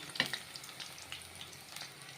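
Oil sizzles and crackles steadily as cauliflower deep-fries in a kadai, with a few sharp pops and light stirring clatter over a soft background hiss.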